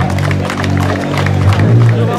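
A crowd applauds and cheers at an outdoor slalom podium ceremony in Amendolara, honoring Domenico Tramontana of the A112 Autobianchi class; steady, dense clapping fills the moment under a loud announcer-style voice and music.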